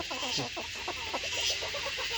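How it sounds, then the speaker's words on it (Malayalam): Cochin bantam and Brahma chicks cluck and peep on a farm, a rapid run of short repeated calls close by with no talk over them. "ഇതത് വേറെ കോഴികളത് ബ്രഹ്മയുടെ കുട്ടികളത്"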